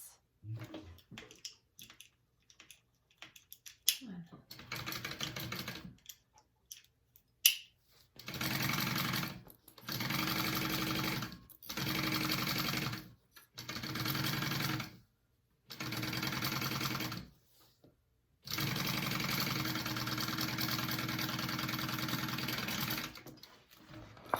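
Home sewing machine stitching a seam on a unisex tote bag, running in several steady whirring bursts of a few seconds each, the last one longer, separated by short pauses and light handling noises.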